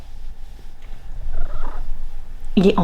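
A house cat lying on a sofa purrs close by in a low, steady rumble, ending with a sudden louder burst of sound.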